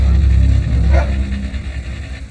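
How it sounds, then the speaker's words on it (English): A police detection dog at a Texas border checkpoint barks an alert at a large white 18-wheeler truck, giving a few loud, close barks over a low rumbling background. "barks an alert for a large white truck"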